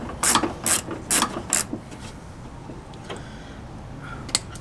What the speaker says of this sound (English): Whack your deep socket on and undo it from the bottom.